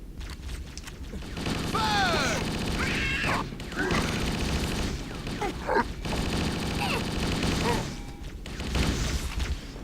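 Assault rifle fire in Halo against Covenant forces comes as repeated rattling bursts mixed with explosions and chaotic battle effects, with voices heard in between.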